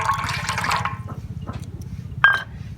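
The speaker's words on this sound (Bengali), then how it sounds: "কিছুটা নর্মাল জল নিয়েছি আর এখানে সেই চা পাতার জল যেটা ফুটিয়ে রেখেছিলাম একদম সম্পূর্ণ ঠান্ডা করে নিয়েছি কিছুটা দিয়ে দেবো" Cooled, boiled tea-leaf water poured into a basin with some plain water, a steady liquid splash and gurgle running for a couple of seconds, then a brief louder splash near the end.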